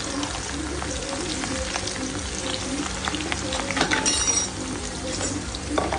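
Onion and dried red chilli fry in a pan with a steady, dense sizzle, a few stirring scrapes breaking through near the middle.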